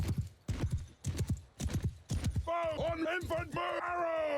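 Cavalry horse hooves in the Mount & Blade II: Bannerlord video game clop in a quick, regular rhythm for the first half. A sustained tonal sound follows, with a voice speaking over it.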